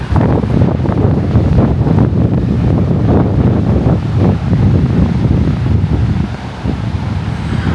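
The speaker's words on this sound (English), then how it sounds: "It's so windy out here." Strong wind blowing along the Lake Erie shore during a wind advisory, a loud continuous roar buffeting the microphone with rumbling gusts throughout.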